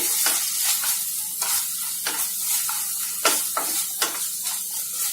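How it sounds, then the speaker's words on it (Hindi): A spoon stirs sauce through vegetables for chapati noodles in a pan, repeated scraping strokes at an uneven rhythm over a low sizzle, close and fairly loud with no talking. "इसको हम अच्छे से मिक्स कर लेंगे।"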